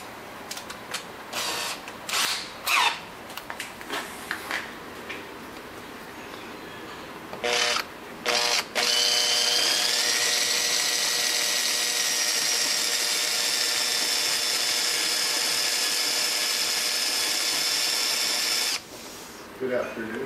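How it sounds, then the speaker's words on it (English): A power drill with a centering drill runs in short bursts, then settles into a long, steady high-pitched whine as it bores into a steel ball in an engine oil galley before stopping. "centering tool to try and drill this out."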